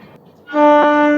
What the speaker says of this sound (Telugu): స్టేషన్లో నుంచి అయితే ఒక ట్రైన్ అయితే వచ్చేస్తుంది వ్యాప్సన్ లోకోమోటివ్తో.